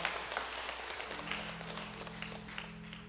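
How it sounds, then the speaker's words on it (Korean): Church congregation clapping in praise during a worship service, a steady patter of hands that thins out, with a low sustained hum of instruments or organ underneath. "찬양 받으신 하나님 앞에 박수로 영광 올려드립니다."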